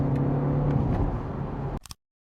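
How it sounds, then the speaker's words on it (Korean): A BMW 530e plug-in hybrid engine revs steadily and loudly while the driver works the paddle shifters, a continuous low drone with a whir that cuts off abruptly, followed by a couple of brief knocks before silence. "제가 지금은 패드 시프트를 이용해서 일부러 엔진 RPM을 의도대로 써보고 있는데요"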